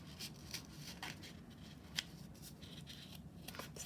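Sharp art scissors cutting through thick folded construction paper for a paper snowflake: a quick run of faint, crisp snips close by in a quiet room, with short pauses between cuts.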